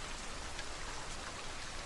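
Steady, soft rainfall, a gentle even hiss of drops with no thunder or voices, filling the short stretch at a faint, constant level.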